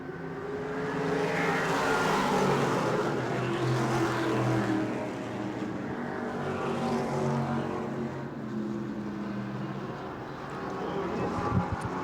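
Race cars roar past at New Smyrna speedway, a broad engine drone swelling and fading in waves as the cars go by, with a commentator talking over it.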